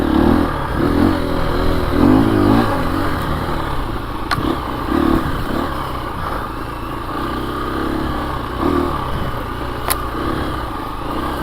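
A KTM 350 dirt bike engine revs and drones continuously while riding a timed woods loop, rising and falling with throttle, with occasional clatter.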